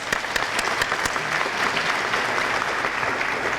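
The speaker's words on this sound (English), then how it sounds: "Big round of applause." Gala audience at a hall of fame event breaks into a big round of applause. Dense, close clapping runs evenly from start to finish with a few sharp individual claps standing out.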